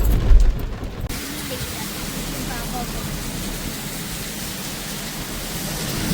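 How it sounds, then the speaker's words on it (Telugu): Heavy rain pours down in a dense, steady hiss that fills the whole stretch, loud and continuous after a brief louder rumble at the start. "మీరు చూడొచ్చు ఎంత స్పీడ్గా వర్షం పడుతుందో"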